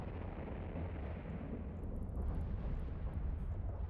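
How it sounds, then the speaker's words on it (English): A deep, rumbling explosion in the space game EVE Online rolls on as a sustained low roar with crackling texture, loud and continuous, with faint high beeps from the game interface. "Oi, nice explosion."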